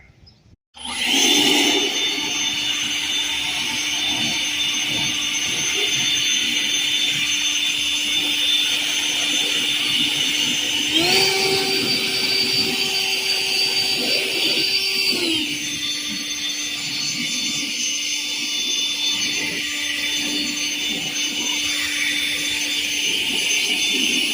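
A leaf blower runs steadily and loudly while clearing grass from hay equipment, with a high whining tone that rises in pitch for a few seconds midway before settling back.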